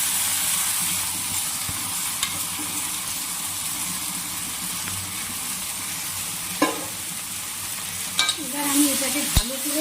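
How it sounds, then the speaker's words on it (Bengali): Gobindobhog rice frying in a pan with cashews and raisins for pulao, a continuous close hissing sizzle with a few scattered scrapes and knocks of the spoon toward the end, no voices. "এটাকে ভালো করে নাড়াচাড়া করে নেব। আর এটাকে ভালো করে ভেজে নেব 10-15 মিনিট।"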